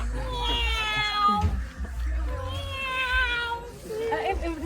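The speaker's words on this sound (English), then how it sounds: "It is a male cat." A male cat meows several times in long, wavering, harmonic calls, loud and close, with a low rumble of background noise and some voices around it at an outdoor forest festival.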